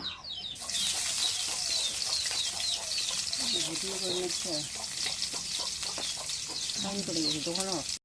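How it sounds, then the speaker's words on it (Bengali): Cumin and garlic drop into hot oil and sizzle steadily, a bright crackle that runs throughout while someone talks and a chicken clucks in the background. "এখন এই যে জিরে আর রসুন তেলের মধ্যে দিই।"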